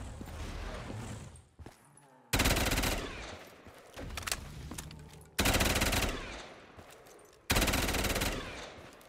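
Repeated loud bursts of automatic fire from the Nelly gun in a Call of Duty-style zombies game, three sustained volleys each lasting about a second or more, separated by quieter game sounds with a voice talking throughout.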